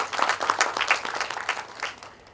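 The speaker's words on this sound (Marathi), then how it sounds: "या सर्व परीक्षकांसाठी आपण सगळ्यांनी एकदा टाळ्या वाजवूया." Audience applause for the judges at a Marathi one-act play competition prize distribution, a short burst of scattered, fairly distinct hand claps that fades out near the end.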